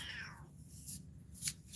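A house cat meowing indoors, two short, close calls in quick succession, with no talk over them.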